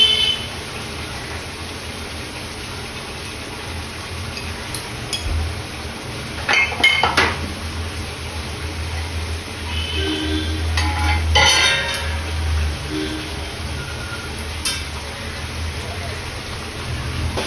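Chicken cooking in a home kitchen, a soft background sizzle with scattered clinks and scrapes of a utensil against a pot, occasional louder knocks, fairly quiet and close.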